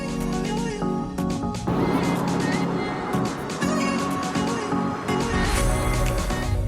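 A Tesla driving past palm trees, a steady, loud road and cabin rumble throughout with knocks and clicks, and some voice mixed into the drive noise.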